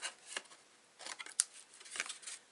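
Scissors snip along the edge of a handmade floating frame card decorated with stippled blossoms, giving a few short, crisp cuts spaced irregularly, close and fairly quiet with no talking.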